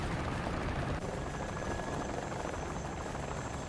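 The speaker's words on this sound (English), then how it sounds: "And the helicopter." Helicopter in the War Thunder video game, a steady loud rotor drone and engine whine that runs unbroken from start to end with no talk over it.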